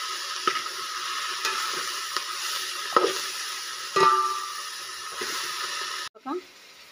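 Food in a pan sizzles steadily while a spoon stirs it, giving occasional scraping taps over a continuous hiss that cuts off near the end, followed by a brief quiet clink.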